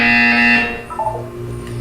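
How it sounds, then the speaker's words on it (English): A loud buzzer from the Portal 2 video game sounds alone for about a second: a steady, harsh electronic tone that cuts off, followed by a brief softer chime-like tone. "You will hear a buzzer. When you hear the buzzer, look down at the floor."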